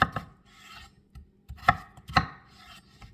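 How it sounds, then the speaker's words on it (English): A knife slices rinsed vegetables into small pieces for an Easter dinner, giving a few crisp, close chopping taps against a cutting board at an irregular pace, with no voices. "And now I'm just slicing them. And I'm trying to make them kind of small so they'll cook quick."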